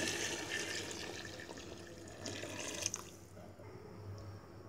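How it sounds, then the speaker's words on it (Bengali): Water pours and splashes into a pot of beef curry close by, a gushing stream that tapers off into a quieter sizzle and drips. "এবার মাংসটার মধ্যে পরিমাণ মতো পানি দিয়ে দিব"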